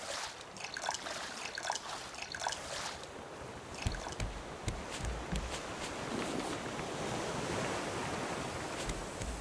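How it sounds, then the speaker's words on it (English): Water sloshing and splashing during a shark attack in the game Raft, with irregular bursts of splashes early on giving way to a steady rushing wash. "That sounds like shark attack water."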